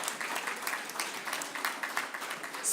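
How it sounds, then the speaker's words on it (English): Audience applause at an Africa Day session, a steady wash of many hands clapping at moderate distance that runs unbroken through the moment and swells slightly at the end. "let's give them a round of applause"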